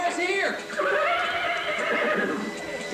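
A horse neighs twice: a short, sharp whinny, then a longer wavering one that trails off. Voices are heard over the sounds.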